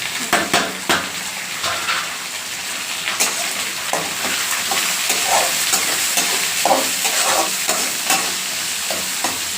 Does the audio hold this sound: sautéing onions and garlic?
yes